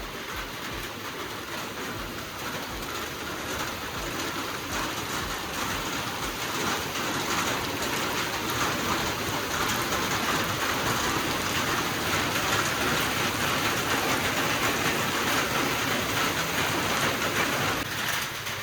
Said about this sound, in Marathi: हे बघा किती जोरात पाऊस चालू इकडे